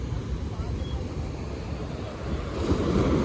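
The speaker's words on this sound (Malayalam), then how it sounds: "നല്ല തിരമാലയുണ്ട് കേട്ടോ" Sea waves break on the shore at a sea-fishing spot in a continuous rushing wash mixed with wind buffeting, surging louder near the end.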